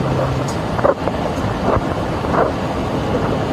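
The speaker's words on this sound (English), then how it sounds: "It's about to get real windy." Loud, steady wind roars and buffets continuously, with gusty rumbling and no voices.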